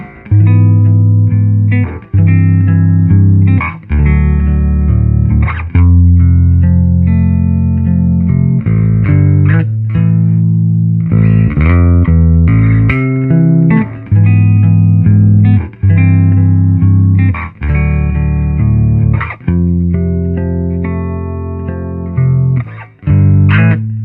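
Bass guitar played through an Orange AD200 bass amp with its clean switch engaged. Loud, continuous playing of repeated low notes and chords with heavy low end, heard alone for about twenty-four seconds.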